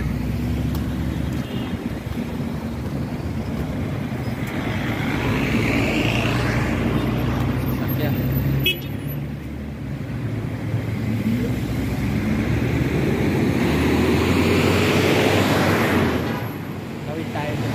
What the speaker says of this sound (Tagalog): dami na sasakyan, traffic na.